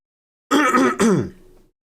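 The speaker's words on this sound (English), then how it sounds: "Apologies for the cough." A single short, rough throat clearing, close and loud, lasting about a second before trailing off.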